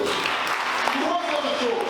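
A church congregation at a Sunday morning prayer-marathon service clapping and cheering for the Lord, a dense, steady wash of applause filling the room with voices mixed in throughout.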